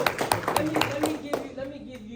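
Applause from a small audience comes as a run of quick, close claps lasting about a second and a half before thinning out, with voices talking over it.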